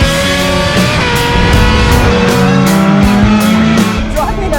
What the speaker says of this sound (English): Driving a Lamborghini Miura